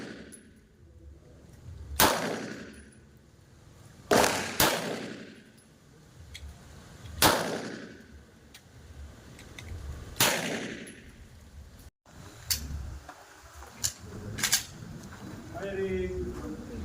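Handgun shots at a shooting range, about six loud, sharp reports spaced a couple of seconds apart, each ringing out briefly before the next.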